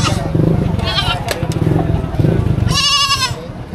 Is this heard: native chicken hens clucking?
no